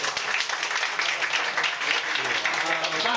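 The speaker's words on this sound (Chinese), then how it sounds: "大家用热烈的掌声哦，" An audience at a tenth-anniversary gathering gives a group warm applause, a dense and continuous patter of many hands clapping at a moderate level all the way through.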